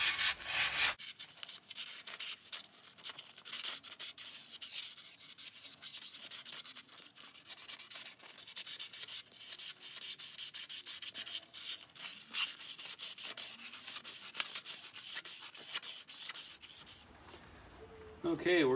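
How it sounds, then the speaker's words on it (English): Steady, continuous abrasive rasping of sanding a metal suspension part on a 1988 Dodge Raider, close and fairly loud, with a rhythmic scratchy texture for most of the stretch before stopping near the end. "you're just sanding away enough to make it smooth"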